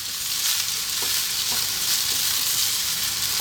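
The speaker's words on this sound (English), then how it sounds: "staying on this high heat, and actually fry this rice." Cold rice frying on high heat in a pan for egg fried rice, a loud continuous close sizzle with faint stirring scrapes underneath, no talk.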